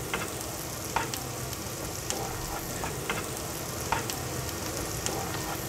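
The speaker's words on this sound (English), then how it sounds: "Right, so now the onions have been on for maybe 2-3 minutes and they're nicely glazed" Onions frying and caramelizing in butter in a pan, giving a steady close sizzle with occasional sharper pops and spatters, and no talking.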